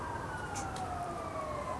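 A police siren wails steadily in the distance, its pitch sliding slowly downward over constant background noise.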